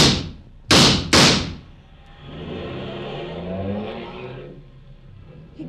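Two loud thumps like car doors slamming, then an engine revs and a car accelerates away, fading into the distance.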